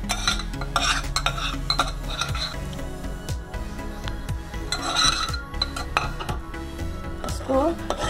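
Boiled, mashed rice being stirred into thickened milk for kheer, with a spoon steadily scraping and clinking against the metal pot in continuous close strokes.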